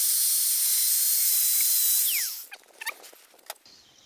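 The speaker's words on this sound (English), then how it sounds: "So in this method I am going to make a small slot here cut by using a angle grinder" An angle grinder cuts a slot into a broken bolt with a loud, steady high-pitched whine. After about two seconds it winds down and stops, leaving faint scattered taps and rattles nearby.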